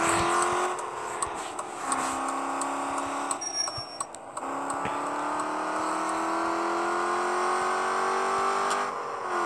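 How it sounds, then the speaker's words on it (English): An Audi A6 V8 quattro with straight exhaust pipes drives past close by, its engine holding a steady tonal drone that dips and climbs again as it shifts, with a brief beep partway through. "It's a V8 natural, like a V8 engine."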